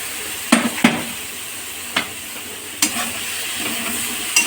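Peas being stirred in a pan for ghugni, a few distinct scrapes and clinks of the spoon spaced over a soft steady hiss, close and moderately loud with no talking.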